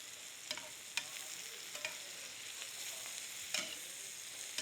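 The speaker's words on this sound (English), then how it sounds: "Stir it around a little bit" Chicken piccata with dried thyme stirred in a pan, a quiet steady sizzle with a handful of sharp utensil scrapes and clinks at irregular intervals, close and faint, with no voices.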